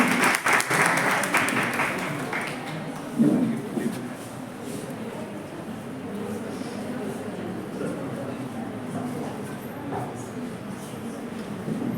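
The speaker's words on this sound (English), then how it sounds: "Please welcome them with a big hand round of applause." An international conference audience gives a round of applause: dense clapping fills the hall at first, then thins and fades into scattered claps under a murmur of voices.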